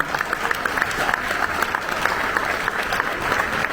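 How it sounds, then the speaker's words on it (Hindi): Sustained applause from a large crowd welcoming Olympic athletes, dense clapping at an even level throughout with no pauses. "एक बार करतल ध्वनि के साथ हमारे सारे ओलंपियंस का जोरदार स्वागत अभिनंदन किया।"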